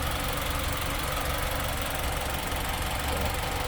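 Steady engine drone from a 2019 Mitsubishi ASX MR with a 2-litre MIVEC motor, a continuous, fairly loud hum and rumble heard close up with no break or voices.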